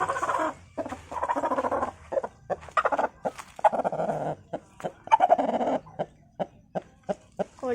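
A country hen sitting on eggs to brood makes soft, close clucks and murmuring grunts in short irregular bursts, with quiet pauses between them.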